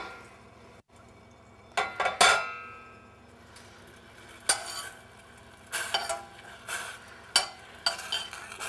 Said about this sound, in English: we're going to cook this down quite quickly until it's about a tablespoon in volume, right? So let this boil